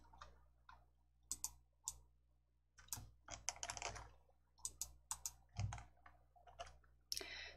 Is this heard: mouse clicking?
yes